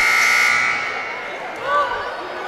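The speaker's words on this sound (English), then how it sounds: "The buzzer went off." A loud, flat electronic buzzer blares for about a second at a men's college basketball game, then fades under the murmur of the indoor crowd.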